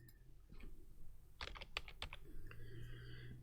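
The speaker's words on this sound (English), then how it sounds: "or you can type" Keystrokes on a Chromebook keyboard, a quick burst of close, crisp clicking taps over a soft steady background hum.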